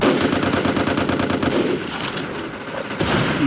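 Gunfire in the online shooter MICROVOLTS Recharged, a dense run of rapid automatic shots that is loud and close, continuous for several seconds with a brief dip midway.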